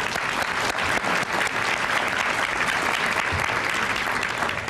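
Loud, continuous clapping from a luncheon audience honoring a group of guests, dense and unbroken throughout.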